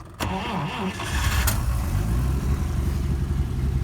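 A 1938 Plymouth engine is cranked with a foot starter button, giving a brief whirring crank before it catches, then settles into a loud, steady, close-up idle with a slight miss.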